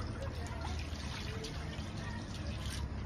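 Plain tap water pours into a pot with butter, a continuous close trickle and splash with faint background noise.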